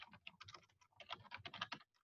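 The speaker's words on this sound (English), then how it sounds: "Oh my God, typing." Typing on a computer keyboard, a brisk burst of rapid key clicks in two flurries with a short pause between them, faint and alone.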